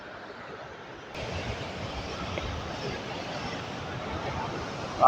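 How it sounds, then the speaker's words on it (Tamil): Water rushes steadily along a roadside in Dimbulagala, Polonnaruwa District, Sri Lanka. A soft hiss swells abruptly into a constant, fairly close broadband wash that keeps going without pause. "பாருங்க எப்படி தண்ணி வருதுன்றத"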